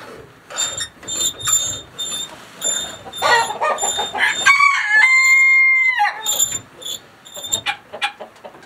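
Chickens in a backyard coop cluck and crow repeatedly, close and fairly loud, with one sustained rooster-like call in the middle and a rattle of mechanism in the background.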